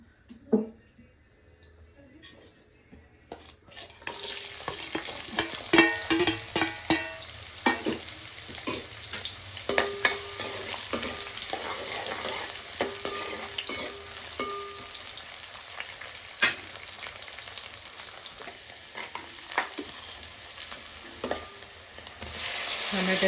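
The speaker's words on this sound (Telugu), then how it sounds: "ఇప్పుడు మెంతికూర వేస్తున్నాం" Fenugreek leaves hit hot oil, and after a quiet start a loud, dense sizzle bursts up and holds, crackling and popping steadily close by, with occasional stirring knocks and no talk.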